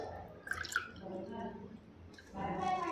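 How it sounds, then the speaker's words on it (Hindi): Water is poured onto sugar in a pot to start a syrup, giving a short, soft liquid splash and trickle close by, swelling again near the end. "2 कटोरी मैंने पानी डाल दिया इसमें।"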